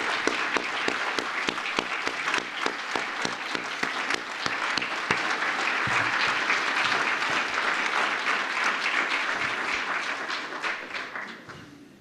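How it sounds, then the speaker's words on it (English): An audience claps steadily for veterans at a ceremony, dense applause filling the hall and slowly fading toward the end. "please stand so we can give our veterans a round of applause"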